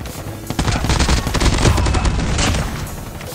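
Rapid automatic gunfire in the mobile shooter game Call of Duty Mobile, a dense continuous burst of shots with booming low end, loud and close throughout.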